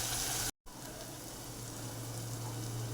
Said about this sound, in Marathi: ते आपण तेलामध्ये परतून घेऊ छान.